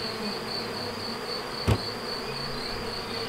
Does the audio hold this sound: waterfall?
no